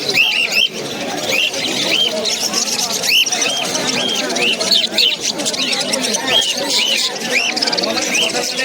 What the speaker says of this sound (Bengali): হাটে কিছু পাখি এসেছে